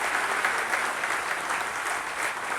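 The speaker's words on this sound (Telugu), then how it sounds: "మనం ఈ సందర్భంగా గట్టిగా చప్పట్లతో వారికి కూడా అభినందనలు తెలియజేయాలి." Steady, dense applause from an audience at a gathering of government degree college guest lecturers, sustained and even throughout with no speech over it.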